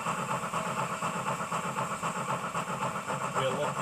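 A model steam locomotive's ESU sound decoder produces a steady, rhythmic heavy chuff while climbing a grade, with even repeating beats over a continuous mechanical hiss.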